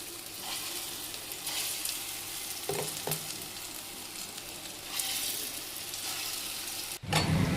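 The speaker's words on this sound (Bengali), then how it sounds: "এক এক করে বড়াগুলো ভেজে নিচ্ছি।" Fritters (bora) frying one by one in hot oil, a steady close sizzle with a few sharper crackles as pieces go in, ending in a brief louder splash of sizzling.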